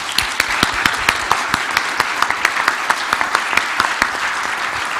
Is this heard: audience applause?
yes